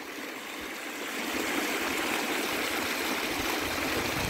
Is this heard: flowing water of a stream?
yes